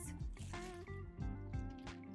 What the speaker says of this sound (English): take this to the sink and rinse them out with cool water